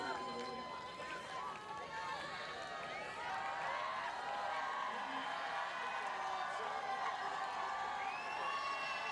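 Spectators at a Commonwealth Games men's compound archery team gold final make a broad, continuous crowd murmur with scattered cheers and shouts, rising slightly over time, with voices blended in the background.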